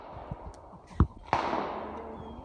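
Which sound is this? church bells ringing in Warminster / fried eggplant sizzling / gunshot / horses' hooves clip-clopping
gunshot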